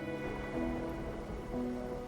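Rain falls steadily in a video game scene, a soft, even patter with a faint wash of background tones and no talking.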